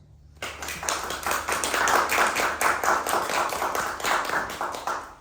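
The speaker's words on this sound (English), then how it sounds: "I think that deserves some applause" A small audience at a piano technique masterclass bursts into applause for a student, a sudden, close round of brisk clapping from a modest group that stays lively throughout.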